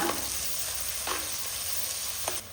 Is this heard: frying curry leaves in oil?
yes